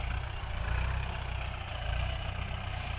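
A tractor engine runs steadily in a rice field on a sunny late afternoon, a continuous low idling rumble heard up close with no one talking.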